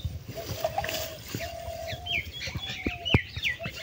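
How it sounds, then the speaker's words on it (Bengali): Birds chirp and tweet in short, high calls at a village on a cold early morning by a river, fairly close, over light splashing water and background sounds. "গ্রামের মানুষের ঘুম ভাঙে হাঁস মুরগি ও পাখির কিচিরমিচির আওয়াজে"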